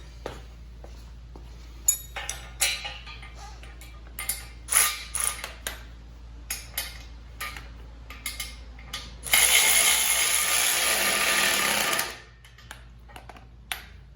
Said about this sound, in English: I have a 3/8" drive Milwaukee. I'm just going to do it like so here.